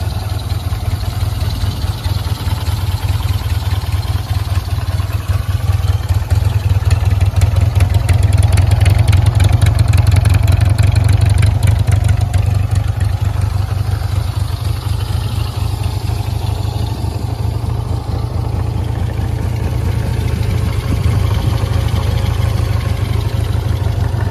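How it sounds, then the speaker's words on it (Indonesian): A 1976 Honda CB200 motorcycle engine idles steadily at close range, a low, even rumble that continues throughout with only slight variation. "Nah ini suara mesinnya."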